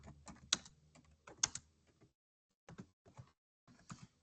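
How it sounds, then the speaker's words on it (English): Short bursts of typing on a computer keyboard, quiet and close, with brief pauses between runs of clicks. "type this out"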